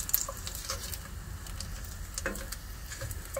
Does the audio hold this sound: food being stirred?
yes